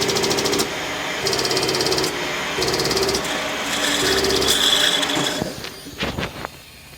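A Hunter TC3700 tire changer spins a wheel in pulsing bursts of motor whir with hissing, followed near the end by a few sharp knocks and clunks as the bottom bead breaks free, all close and fairly loud.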